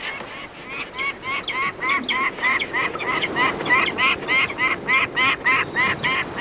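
Birds at a nest in Scotland give repeated harsh alarm cries in a regular run of about twenty calls. The calls are fairly close and carry over a low, rough background.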